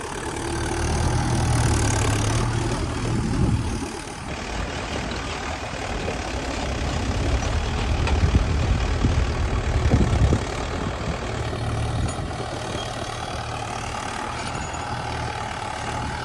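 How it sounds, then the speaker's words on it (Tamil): A tractor pulling a five-disc plough through a peanut field, its engine a steady, loud, close-up drone with rough low rumble that swells and eases slightly throughout, no voices. "இப்போ 5 கலப்பையில் ஓட்டிக்கிட்டு இருக்கோம் மக்களே"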